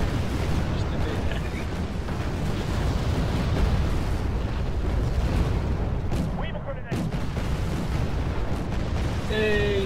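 Friendly fire in the Wargame Red Dragon video game: dense, continuous rumbling artillery explosions and gunfire fill the scene at high level, with a few brief electronic blips.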